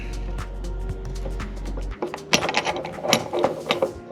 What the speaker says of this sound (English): This isn't a bad wrench, but it's not the right wrench for this job.